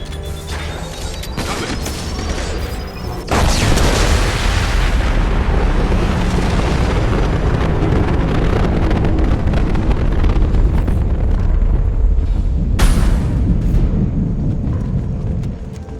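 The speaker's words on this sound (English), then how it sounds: "It's going to explode." A massive explosion from the Mass Effect 2 game erupts with a loud boom, then holds as a sustained roaring, rumbling blast with crashing debris, swelling again near the end.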